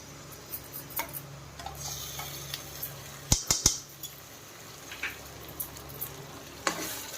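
Gongura paste is stirred into an Andhra-style curry in a frying pan, giving a faint, steady sizzle. Light ticking clinks of a spoon against the pan come through, including a brief cluster of sharp taps near the middle, and nobody speaks.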